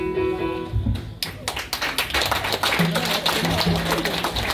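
Repeated hand claps at a youth praise and singing session, sharp claps in a quick run close to the microphone, with voices and some sung tones underneath.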